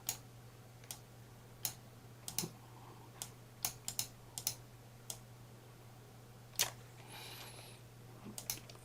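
Keys on a computer keyboard are pressed in short, sparse clicks with uneven gaps between them, faint and close, over a low steady hum.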